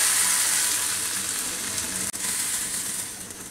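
Hot spiced onion tempering (bagar) is poured into mashkolai lentil dal with spinach, producing a loud, close, hissing sizzle that fades slightly, broken by one sharp brief clack midway.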